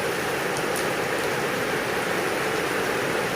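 Heavy rain falls during a July storm in Laos, a dense, constant roar of water with no breaks or voices, loud and close throughout.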